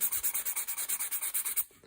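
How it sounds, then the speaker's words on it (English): Rhythmic sanding strokes with a block on a Kofs Zenith shotgun stock during gun-fit adjustments, about a dozen even back-and-forth rubs at a steady pace, close and fairly quiet, stopping abruptly near the end. "sanding block probably"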